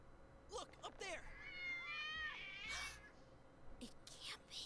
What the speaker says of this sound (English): He has cats right next to him.